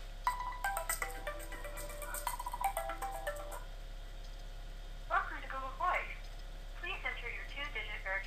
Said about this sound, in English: I don't know if you guys will hear my phone ring, but I'll put it on speaker so you can see what it sounds like.